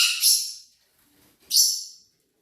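Two sharp, shrill squawks from a pet parrot bullying another bird indoors, each sliding downward and fading, with a quiet gap between them and no voices.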